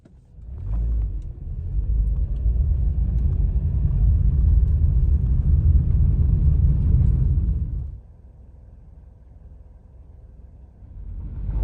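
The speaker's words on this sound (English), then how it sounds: "So I'm just driving along," A car drives along a road on the way to Dorrigo National Park, a loud steady engine rumble and road noise for about eight seconds that then drops to a softer cabin hum.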